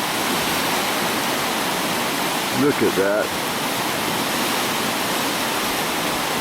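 A rain-swollen river rushes in a steady, loud broadband roar, with a brief spoken remark partway through.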